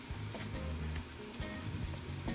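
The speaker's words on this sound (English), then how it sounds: "Back to frying." Eggplant slices frying in hot oil for eggplant parmesan, a soft, steady crackling sizzle heard close up and fairly quiet, with no voices.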